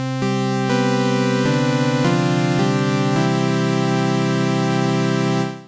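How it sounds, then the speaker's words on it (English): An Ableton Live Drift synthesizer playing its basic default patch: a bright, buzzy sustained tone with rich harmonics, stepping through a few held notes and chord changes at steady loudness for about five seconds, no voices. "Here I've got a basic default drift patch loaded up"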